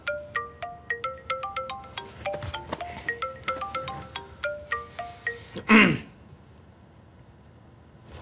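An incoming-call ringtone on a mobile phone plays a bright repeating melodic pattern of short electronic notes for about five seconds. A brief noisy burst cuts it off, then near silence follows.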